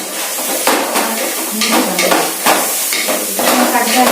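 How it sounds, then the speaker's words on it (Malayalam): Onion and tomato are added to a frying beef roast and stirred, giving loud, close, rhythmic scraping strokes of a utensil against the pan over a constant hissing sizzle. "നമുക്ക് ഈ സവാള തക്കാളി ആഡ് ചെയ്യാം."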